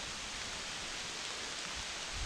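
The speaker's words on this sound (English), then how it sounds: "the rain's a lot heavier" Heavy rain pours outdoors in a steady, even hiss, fairly faint and unbroken throughout, with no talking.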